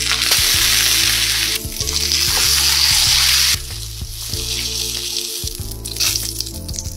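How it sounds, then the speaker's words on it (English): A salt-and-pepper seasoned steak sears in a preheated, oiled pan, giving a loud, steady, close-up sizzle that continues throughout with no talking. "Preheat and oil up your pan and add in the steak."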